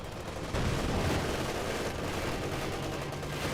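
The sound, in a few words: Thompson submachine guns firing in video game Company of Heroes 2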